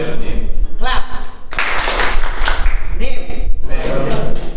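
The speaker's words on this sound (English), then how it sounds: "When I say clap, clap." A group plays a call-and-response public speaking game and claps together on command in a meeting room, giving a burst of applause-like clapping between stretches of talk and answering voices.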